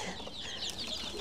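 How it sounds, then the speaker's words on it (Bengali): Young native chicks cluck and peep close by on a farm, a busy layer of small chirping calls filling the short moment with no speech. "এখানে আমাদের কিছু দেশি মুরগির বাচ্চা আছে"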